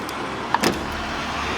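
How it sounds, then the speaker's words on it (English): The sliding door of a converted VW e-Crafter electric bus moves briefly with a short mechanical slide and clunk, then a quiet steady hum of the vehicle's interior continues. "You can enter it with sliding doors on the right side."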